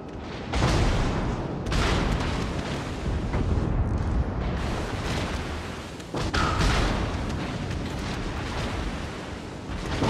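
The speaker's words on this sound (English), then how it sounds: "Enemy battleship destroyed." An enemy battleship exploding in the naval video game World of Warships: Legends, a loud sustained roaring blast with deep rumbling booms that carries on for several seconds.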